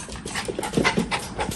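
A dog pants rapidly and eagerly in short, close breaths, an even rhythmic huffing with no voices over it.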